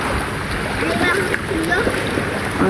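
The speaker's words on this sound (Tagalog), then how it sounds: "Ang lakas ng alon" Strong waves splash and slosh close by in broken bursts, with voices talking and laughing over the churning water.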